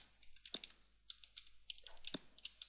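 Light, quick clicks of keys being typed on a computer keyboard, a few soft, close taps in an uneven rhythm against a faint background hum, with short gaps between strokes.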